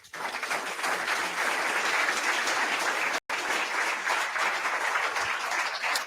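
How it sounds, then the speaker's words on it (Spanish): Audience applause for poet Óscar Arturo Palencia at a tribute to writers: steady, dense clapping from a crowd lasting about six seconds, with one very brief dropout partway through. "Bien, ese aplauso para Óscar Arturo Palencia."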